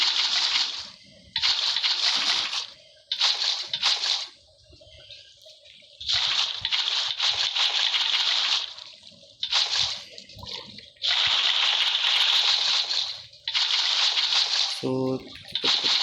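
Water placed and flowing in Minecraft makes repeated bursts of bright, splashy rushing sound, each lasting one to two seconds, with quieter gaps between them and a short tonal game sound near the end.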